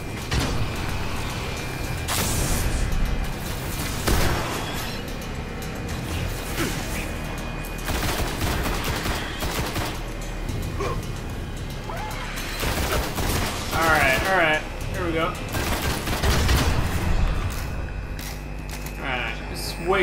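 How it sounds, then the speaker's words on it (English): Shotgun blasts and other weapon fire from the video game Destiny, sharp bursts scattered through a busy mix of game effects, with talk throughout. "Hey, eat my shotgun!"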